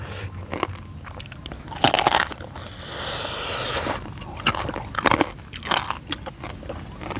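Loud, close, crunchy bites into crispy pork belly come in several sharp bursts, with chewing between them and no talk.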